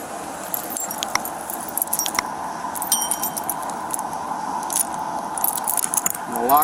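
A police officer double-locks handcuffs on a drunk-driving arrestee at a traffic stop, with repeated close metallic key jangles and small ratcheting clicks scattered over several seconds, faint road noise underneath.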